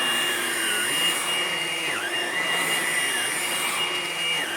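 A Hoover Blade Plus vacuum cleaner runs close by with a steady, loud motor whine and a high-pitched tone, holding an even level throughout with small dips in pitch.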